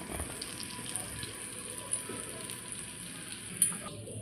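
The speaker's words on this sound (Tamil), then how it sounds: "இந்த தவாவில் அப்படியே வச்சு பட்டரில் நல்லா மிக்ஸ் பண்ணுறோம்" Bread fries in butter on a hot tawa with a soft, even crackling sizzle, close and fairly quiet, with a couple of faint taps from handling the slice.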